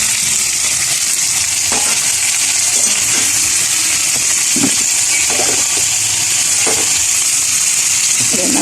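Garlic, tomato and red onion sautéing in a hot pan, a loud steady sizzle with intermittent scraping and stirring knocks, a voice faintly underneath.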